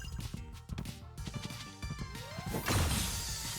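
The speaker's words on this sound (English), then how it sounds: "Smashes enemies in an arc." Arcing melee attack from a party hero in Sea of Stars, a heavy crash and whoosh landing over busy battle music, loud and close with a sweeping pitch rise near the end.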